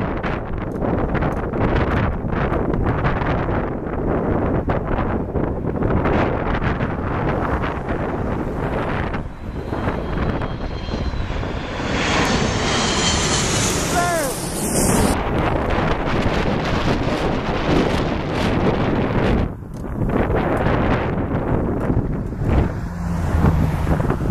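Strong wind gusts roar steadily across the microphone outdoors, loud and continuous throughout, with occasional brief lulls and no clear talk.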